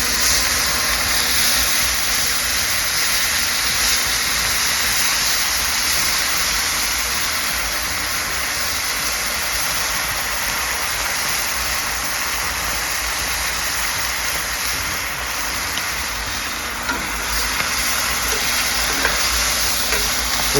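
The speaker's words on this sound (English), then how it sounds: "we want to get this seared pork belly in there, and now white wine" Loud, steady sizzle of white wine hitting seared pork belly in a very hot pan on a grill, a broad rushing hiss holding evenly throughout with no voices over it.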